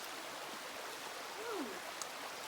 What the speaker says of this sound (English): Little creek crossing.